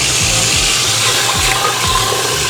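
Soaked red beans are rinsed under running water, giving a steady, loud, continuous rush of water with faint low knocks underneath and no talk.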